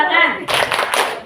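Children clapping in a classroom, a 3-6-9 clap pattern: after a brief spoken lead-in, two sharp, loud bursts of clapping in quick succession.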